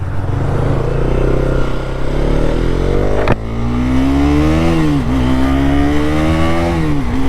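A KTM RC 200 motorcycle engine revs loudly and close up, its pitch rising, dropping briefly, then climbing and wavering as it accelerates.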